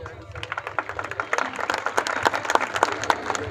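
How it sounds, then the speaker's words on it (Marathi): Audience applause at a public family-dialogue meeting in Kalamnuri, a steady patter of many hands clapping at moderate volume for several seconds, with crowd murmur and voices underneath. "खरं तर आपण टाळ्या वाजवलात"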